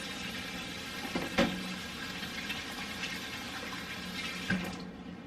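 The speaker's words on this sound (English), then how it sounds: "we'll wash my hands" Running tap water splashes over hands at a kitchen sink during home cooking of beef tips and potatoes, a steady close wash with a couple of brief louder splashes.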